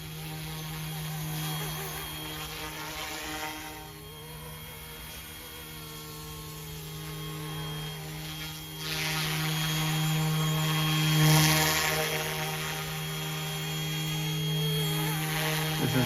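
A Bell OH-58 RC helicopter flies overhead, its rotor and motor making a steady whirring drone that swells louder partway through as it draws closer.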